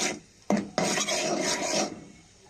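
A spatula scrapes and stirs a tempering of panch phoron and chili in hot oil for a jujube pickle, giving a close, steady rasping sizzle in two long bursts before fading.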